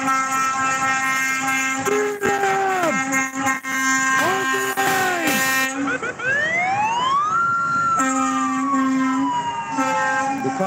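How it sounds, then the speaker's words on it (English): A loud truck siren with long sweeping wails and steady tones, continuous for the whole stretch, close by and dominant. "siren you hear is coming from a truck"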